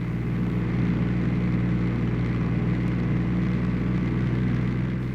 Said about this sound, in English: You might notice that I've killed the music and brought up the engine noise.